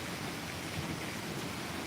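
Light rain falls steadily in a rural countryside afternoon with distant thunder rumbling, a soft continuous broadband hiss with no voices, even and unbroken throughout.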